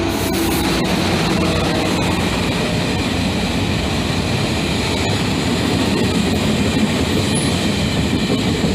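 A Caltrain passenger train hauled by an F40PH diesel locomotive passes close by, a loud, continuous roar of rumbling cars and clattering wheels with faint squeals, and no pause from start to finish.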